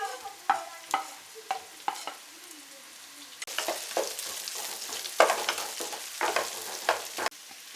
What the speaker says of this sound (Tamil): இப்போ சின்ன வெங்காயம் நல்லா வதங்கிடுச்சு.